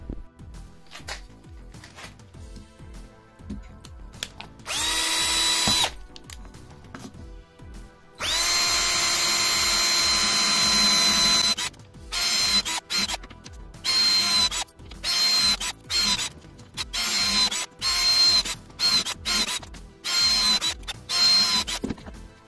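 A power drill runs in long whirring bursts, first drilling into a wall panel and then driving screws, with short stop-start pulses near the end; close and loud, with no talking.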